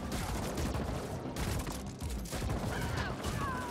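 Rapid gunfire from a homing-bullet weapon in the video game The Ascent, a dense, loud burst of shots crackling continuously with brief lulls and a few whining tones near the end.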